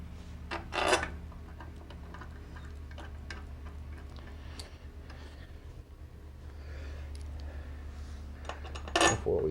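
Bolts are fitted by hand during a motorcycle primary cover install, giving scattered light metallic clinks and ticks of fasteners against metal over a low steady hum.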